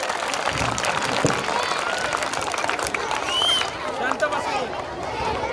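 Audience of parents and villagers clapping for schoolchildren at a school gathering, a broad wash of applause mixed with crowd murmur and voices, fairly loud throughout.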